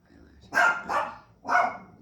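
A dog lets out three quick barks in two seconds, close by and fairly loud, in a quiet room.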